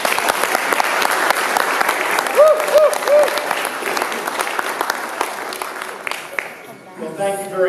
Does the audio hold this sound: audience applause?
yes